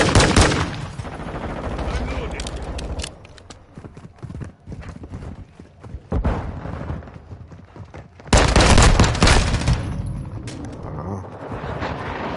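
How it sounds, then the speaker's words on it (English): Pistol shots ring out during a Modern Warfare 2 match, sharp bursts scattered among game effects and other noise, with loud crackling volleys near the start and end. "Let's try this pistol."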